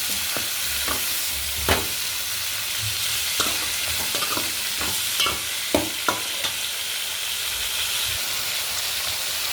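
Garlic cloves sizzle in a hot pan for tomato chutney, a steady close frying hiss broken by scattered spatters and the scrape of stirring now and then, with no voices.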